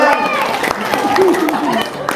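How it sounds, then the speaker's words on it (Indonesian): Applause from a studio audience breaks out amid crowd chatter and voices, a loose, busy patter of clapping mixed with talk. "Tepuk tangan dong."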